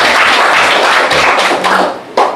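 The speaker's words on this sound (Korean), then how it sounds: "아버지께 영광의 박수." A church congregation applauds in praise of God the Father, loud massed clapping that thins out toward the end, leaving a few separate sharp claps and a late thump.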